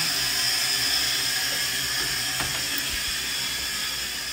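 Hair dryer blower running steadily in a small hotel bathroom, a constant loud airy hiss and whir holding at even level throughout, with no talking.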